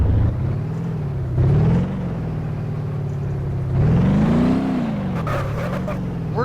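Hirochi SBR4, an all-wheel-drive car with automatic transmission, driving in a video game, its engine droning steadily with two brief revs rising in pitch, loud and close with no talk.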